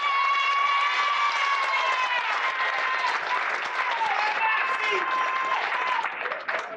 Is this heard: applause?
yes